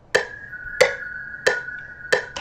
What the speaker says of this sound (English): this one-shot bell from I think X by Nothing's kit.